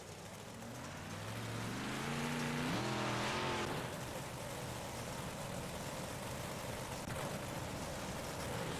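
Big block race cars on the Lernerville dirt track roar steadily at a distance, engines rising in pitch as they accelerate and then holding a continuous drone.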